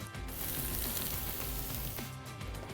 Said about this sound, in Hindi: गैस को करेंगे बंद और ये तड़का जाएगा चटनी के ऊपर।